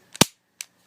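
Two sharp metallic clicks from a Ruger Mark III .22 pistol being dry fired, the hammer falling with a loud snap followed by a fainter second click about 0.4 seconds later, close and isolated with no talking.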